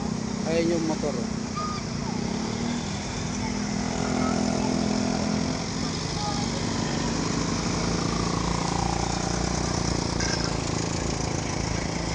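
A motorcycle engine runs close by on Marilaque Highway, a steady loud drone that fills the whole stretch without letup, with people talking over it.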